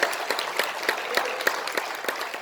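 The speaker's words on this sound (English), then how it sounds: "So clap your hands. Give yourself a round of applause." An audience gives a round of applause during a talk, with brisk, continuous clapping from a modest crowd that stays fairly even and moderately loud throughout.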